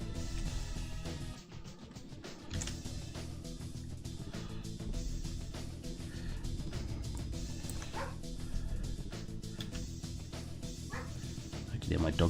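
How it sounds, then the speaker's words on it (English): A dog outdoors gives muffled bow-wow barks, yips and whimpers at a distance, mixed beneath an indoor bed of talk and background sound. "I can hear my dog barking outside."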